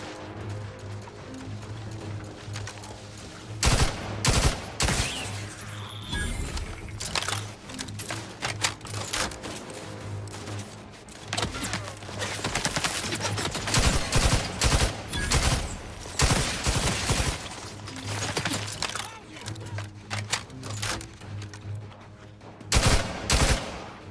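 Dense, sustained gunfire in The Outer Worlds 2, rapid shots crackling almost continuously over a low droning hum, with louder clustered volleys breaking through at intervals.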